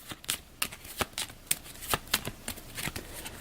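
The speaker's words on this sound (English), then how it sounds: "We'll give this a quick shuffle." A deck of cards for the Aeon's End turn order being shuffled by hand at a tabletop game, a run of sharp riffling snaps and slaps in an irregular rhythm, close and clear.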